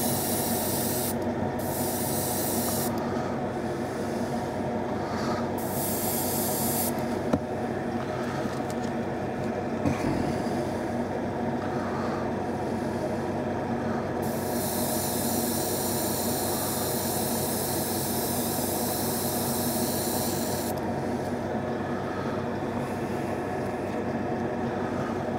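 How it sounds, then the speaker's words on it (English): A paint spray gun lays a base coat with a continuous close hiss, broken by short pauses and restarts as the trigger releases and presses again over about twenty-five seconds. "I've got a very little paint in the gun as well, so don't want to flood it"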